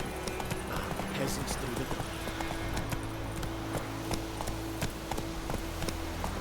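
Horse hooves clip-clop in a steady walking rhythm in The Witcher 3 video game, close and clear, with a voice speaking briefly over them.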